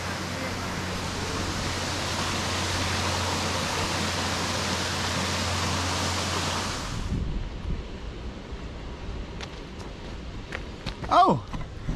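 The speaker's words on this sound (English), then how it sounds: "It's the sound of the third waterfall over there." Distant waterfall rushing near Samaipata, Bolivia, heard as a steady broadband roar for the first several seconds before fading to a quieter background hiss, with a person speaking faintly near the end.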